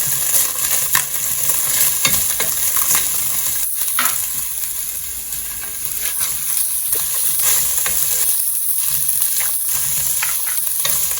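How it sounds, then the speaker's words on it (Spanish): Steady, loud sizzling of onion and garlic frying in rendered bacon fat, with a spoon stirring and scraping through the pan now and then, close and continuous with no talk. "una vez que vemos que nuestro tocino no soltó grasa y ya se está empezando a dorar, comenzamos a agregar nuestra cebolla"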